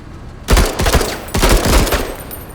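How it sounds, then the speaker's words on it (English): A squad's gun in the tactical game MENACE fires two loud, close bursts of rapid shots. A short gap separates the bursts, and no one speaks. "We can use our gun."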